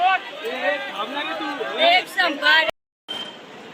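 Dense crowd babble and overlapping voices fill a busy street market at Law Garden, loud and close, with people talking nearby; the noise cuts out briefly near the end before resuming.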